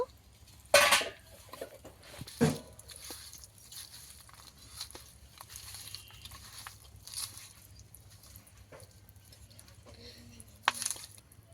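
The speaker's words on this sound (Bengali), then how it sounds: "হলুদ গুঁড়ো, একটু লঙ্কার গুঁড়ো, অল্প একটু তেল দিয়ে ভালো করে মাখিয়ে নেব।" Fish being hand-mixed with salt, turmeric, chili powder and a little oil in a kitchen: soft wet squishing, a couple of sharp clinks from a dish or utensil, and faint patting, quiet overall.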